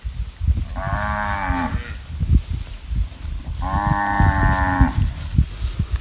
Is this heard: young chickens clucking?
no